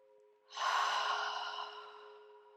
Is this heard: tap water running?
no